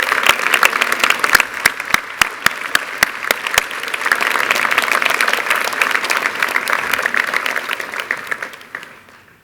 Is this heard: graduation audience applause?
yes